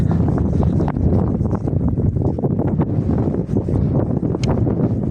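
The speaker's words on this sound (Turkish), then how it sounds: "rüzgar sesi gelebilir kusura bakmayın" Strong, constant, cold wind buffeting the microphone at a sheep pen, a low roaring rumble that lasts throughout.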